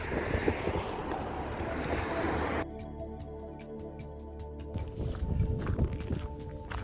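Steady wind buffets the microphone on a country path and national cycle route, a low rushing roar that drops briefly, then gusts again with faint rustling.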